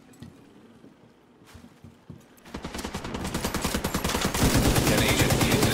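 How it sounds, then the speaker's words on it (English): Light machine gun fire in The Division 2 co-op, starting as scattered shots and swelling into a loud, sustained rapid burst with other gunfire layered under it, joined by faint voices. "I got the light machine gun."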